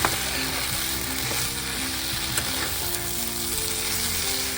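Potato, pointed gourd and rice are sautéed in a pan, giving a steady, loud sizzle and frying crackle with faint stirring scrapes, heard close and without talk.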